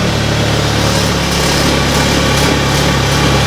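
A VW MK7 Golf R wagon's engine runs steadily and close by as the car is moved, a loud, continuous mechanical drone with no pauses.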